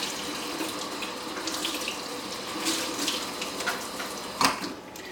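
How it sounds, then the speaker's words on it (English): A kitchen tap runs steadily while a hand is rinsed under it, a continuous close splashing with a brief louder splash near the end. "Now I'm gonna rinse my hand."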